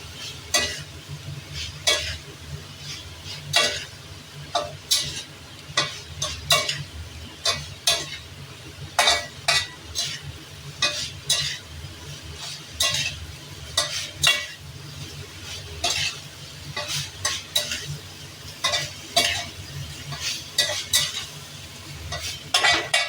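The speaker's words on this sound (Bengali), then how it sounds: "চিংড়ি মাছ আর আলু এক জায়গাতেই রেখেছিলাম," Shrimp and potato curry being stirred in a frying pan, a utensil scraping and clinking against the metal in a steady repeated rhythm over a soft continuous sizzle, close and fairly loud.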